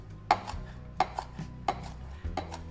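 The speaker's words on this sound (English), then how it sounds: "And we just chop up the mint." A knife chops fresh mint leaves on a board, four crisp evenly spaced thuds, each followed by a softer tap, close and distinct with no talk.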